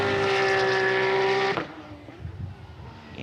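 A GT race car in the GT Cup Open Europe at the Hungaroring screams past loudly with a high, steady engine note for about a second and a half, then drops away abruptly into a fainter, rumbling growl as it pulls off.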